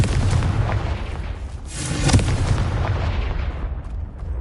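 A Confringo blast spell explodes in a Hogwarts video game, a sharp booming burst in the middle of a rumbling, noisy background. It is close and moderately loud, with no voices.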